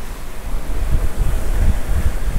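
A 135-foot superyacht under sail rushes through the water, giving a loud, continuous whoosh of hull and spray mixed with gusty wind buffeting close to the microphone, with no talk.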